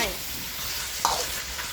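Duck noodle ingredients with sliced chili stir-frying in a hot pan, giving a steady close sizzle with a brief sharper clatter partway through.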